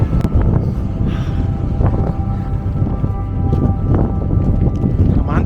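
Strong mountain wind on the Colle del Sommeiller in Piedmont buffets the microphone in heavy low rumbling gusts, with faint voices and a few thin tonal hums underneath.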